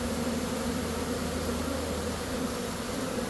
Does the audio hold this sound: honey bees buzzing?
yes